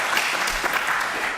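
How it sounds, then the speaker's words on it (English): Congregation applause during a Sunday service, a steady, even burst of many people clapping that fills the short moment with no break. "whenever I say name, we should give a big applause."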